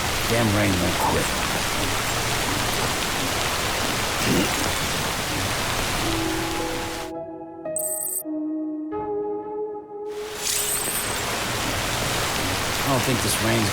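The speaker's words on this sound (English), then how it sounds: "No end to this rain." Constant rainfall in Death Stranding hisses loudly and evenly, interrupted midway by a short run of clean electronic tones in near silence, then the heavy rain resumes.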